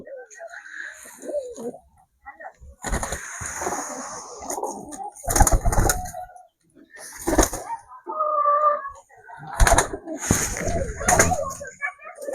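Soft, low pigeon coos repeat in short bursts in a home pigeon loft with young birds, mixed with a few sharp knocks and some nearby talking.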